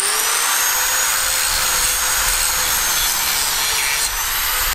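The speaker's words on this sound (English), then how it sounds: "there you can see the angle grinder did a pretty good job of getting a lot of material off in a hurry" An angle grinder grinding down metal to shape a small DIY pry bar, heard as a loud, continuous, high-pitched abrasive whine and hiss that holds steady, up close, with no pauses or talking.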